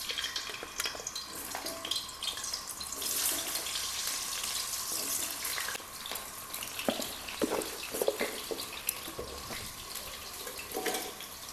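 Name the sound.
potatoes frying in oil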